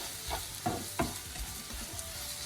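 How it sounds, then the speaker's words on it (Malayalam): Pepper and spice powders stirred in a pan over low flame, giving a few soft scraping strokes with a light sizzle underneath, close and fairly quiet. "ഇതെല്ലാം കൂടി നമുക്ക് നന്നായിട്ടൊന്ന് ഇളക്കിയെടുക്കാവേ"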